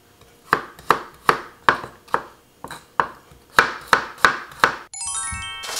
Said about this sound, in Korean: 그냥 듬성듬성 잘라주시고요. 마늘도 어차피 갈 거니까